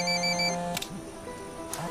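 A mobile phone ringing in Ghost Recon Wildlands, a steady electronic ringtone that stops partway, followed by a couple of faint clicks and soft knocks.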